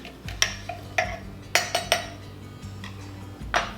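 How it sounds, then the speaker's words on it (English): Chia seed pudding mixture is stirred in a bowl, with a spoon knocking and clinking against the sides in a series of sharp taps. Faint scraping runs between the taps, and a low hum sits underneath. "Mix everything up just to kind of get the chia seeds loose and moving."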